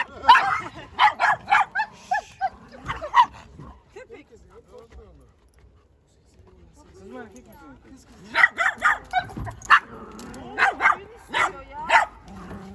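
A Doberman barks in quick repeated yips, a burst at the start and another later, with a quiet stretch of soft whimpering and low talk between.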